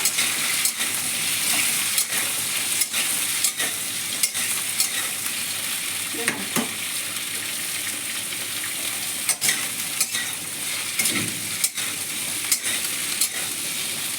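Small mourala fish frying lightly in oil in a pan for a vegetable chorchori, a loud continuous sizzle and hiss close by, broken by occasional sharp crackles and stirring scrapes, with no voices.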